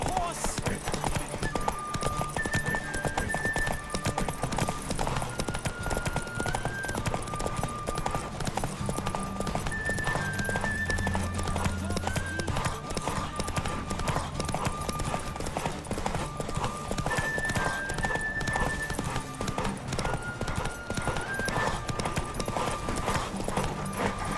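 Horse hooves clip-clop at a fast gallop in The Witcher 3, a steady rapid beat that carries on throughout beneath game music, with voices speaking at times.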